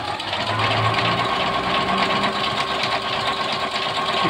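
An electronic sewing machine runs steadily through an overlock stitch on fabric, a close, continuous mechanical whir and rapid needle chatter with no pauses and no talking.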